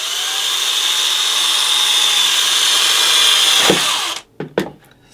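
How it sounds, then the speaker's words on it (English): A high-pitched power drill, running in reverse, whirs steadily through polyurethane resin for about four seconds, then stops abruptly, followed by a few brief clunks and scrapes. "if you put the drill in reverse, it's less likely to chip the resin."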